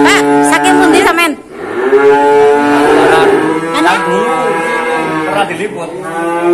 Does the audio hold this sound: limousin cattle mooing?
yes